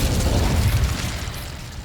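Incendio fire spell going off in the video game Hogwarts Legacy, a loud, dense fiery blast with a deep rumbling body that fades slightly over two seconds.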